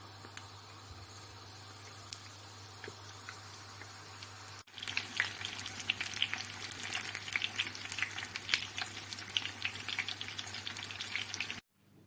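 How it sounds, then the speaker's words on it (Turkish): Steady crackling sizzle of eggplants frying in hot oil in a pan, growing louder and busier midway through, then cutting off abruptly near the end. "Patlıcanları tavaya dizelim, kızartalım."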